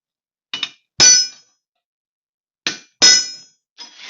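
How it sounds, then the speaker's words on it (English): A hammer strikes a punch set on a sheet metal spot weld, giving sharp metallic clangs in two pairs, each a light tap followed by a harder ringing blow, close and loud with silence between. "I'm going to take my punch, put it right in the middle of that spot weld right there. Give it a good whack."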